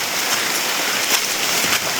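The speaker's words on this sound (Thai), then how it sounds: "ฝนมาอีกแล้ว" Steady, dense rain hissing on surfaces, close and continuous, with no voices.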